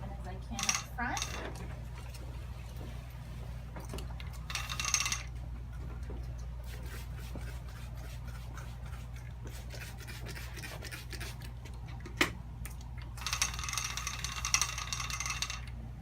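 A hand crank rolls a quilt on a gallery quilting frame, giving scattered metallic ratcheting clicks and clanks over a steady low hum, with two clusters of brighter mechanical rattling.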